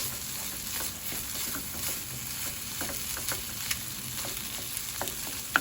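Hormel corned beef hash fries spread out in a pan, a steady crackling sizzle with faint scattered pops and a sharper tap near the end, close and even throughout.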